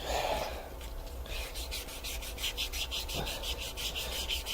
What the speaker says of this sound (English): if you want the best finish in the world, for this kind of stuff, hand sanding is where it's at